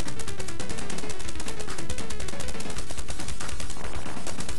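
Dense, rapid gunfire from the Sol-Deace shooter game, a relentless stream of evenly spaced shots at constant loudness, unbroken for several seconds with no voices.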